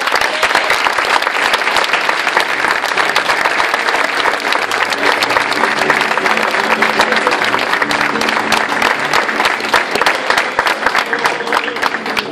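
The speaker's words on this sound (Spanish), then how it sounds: "Un fuerte aplauso otra vez para ti." A crowd applauds after a fiesta proclamation for Our Lady of Lourdes in Marmolejo, Gáldar, with loud, dense, continuous clapping from many hands that holds steady for the whole stretch and has no talk over it.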